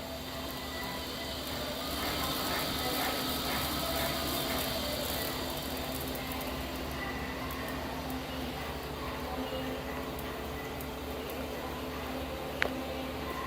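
A Pace Patriot machine running steadily, giving a continuous mechanical whir with a steady hum and fine rattling texture, and a single sharp click near the end.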